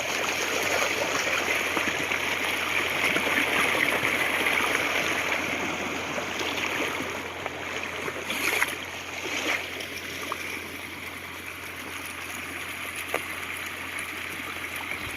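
Steady rushing of water pouring through a pipe at a fish trap during a fish-catching season, a continuous broadband flow with light gurgling, close and fairly loud throughout with no speech.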